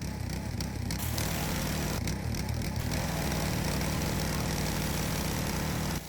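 Pressure washer motor running continuously at a loud, steady drone, with a few brief sputtering gaps early on and no talk.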